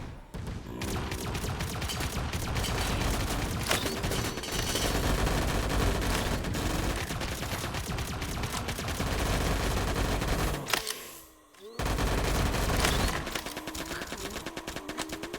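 Rapid bursts of ray gun fire from a VRChat video game crackle loudly and almost continuously, dropping out briefly near the end before the shooting resumes, with no talk.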